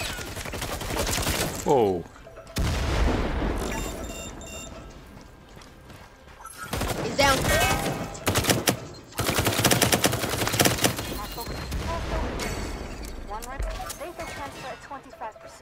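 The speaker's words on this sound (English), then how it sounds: "Multiple bad guys incoming. Fire them all." Bursts of rapid gunfire from the video game Firewall, several automatic volleys separated by short pauses, loud and close, with a brief exclamation from a player.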